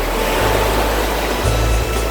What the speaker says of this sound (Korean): 오, 파도 보세요, 파도.